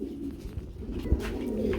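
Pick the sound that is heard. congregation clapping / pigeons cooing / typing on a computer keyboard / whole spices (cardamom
pigeons cooing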